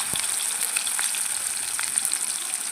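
Chopped onions and curry leaves fry in hot oil with a loud, even sizzle that fills the clip. A few sharp crackles and pops rise above the hiss, and no one speaks.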